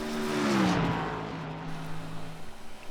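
A Gen 4 Cup race car in the iRacing video game at Watkins Glen, its engine whining down and dropping in pitch while braking into turn 1, then a rougher, fluttering note as it picks up again.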